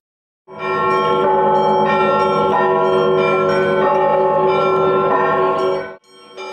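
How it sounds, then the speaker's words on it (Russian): Orthodox church bells pealing together in a sustained, resonant clangor, loud and dense for several seconds before stopping abruptly and starting again. "по звон колоколов и пение хора святыня была торжественно встречена собором духовенства"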